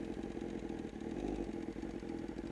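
Motorcycle engine running steadily near the listener, a continuous low rumbling drone whose pitch eases downward slightly as the throttle is let off.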